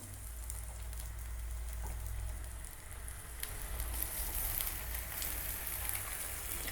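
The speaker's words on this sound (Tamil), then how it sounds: "நம்ம மசாலா சேர்த்து மிக்ஸ் பண்ணி வச்சுருக்க கத்திரிக்காய் எடுத்து ஃப்ரை பண்ணிடலாம்" Masala-coated brinjal pieces fry in oil in a pan, giving a steady, faint crackling sizzle under a low background hum, with no voices.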